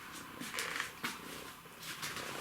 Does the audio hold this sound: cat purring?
yes